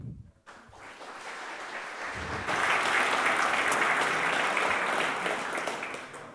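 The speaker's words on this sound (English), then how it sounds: "So please give a round of applause for Sami Makkonen from the Qt company." A conference crowd at a Qt software summit starts applauding a speaker, the clapping swelling after a quiet start into a broad, steady roar that holds to the end.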